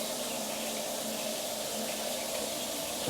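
Steady hiss of a rainfall shower head running in a hotel bathroom in Bangkok, a continuous, even spray of water falling throughout with no talking.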